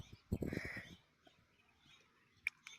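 A pet goose gives a cluster of harsh, honking calls near the start, then a brief sharp call later, with quiet gaps between.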